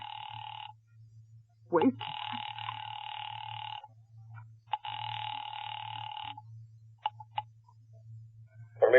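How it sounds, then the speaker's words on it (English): An old-time radio drama telephone rings in repeated long buzzing bursts on a phone line to the police department, with a low hum beneath and a brief spoken word between rings. "Ringing the police department."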